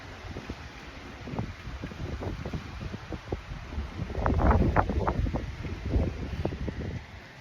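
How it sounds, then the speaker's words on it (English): Strong wind buffets the microphone in low rumbling gusts, swelling louder midway, with a steady hiss underneath and no speech. "but it's hella fucking windy."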